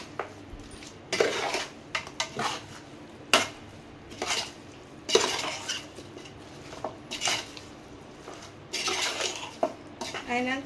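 Chicken biryani being mixed with masala in a pot, giving repeated clinks and scrapes of a utensil against metal at close range, in irregular bursts with no talking.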